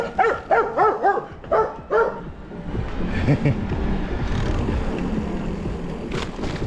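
Dogs bark in a quick series of loud yaps, then stop, leaving a steady rumble of a moving vehicle driving in Adler, Sochi.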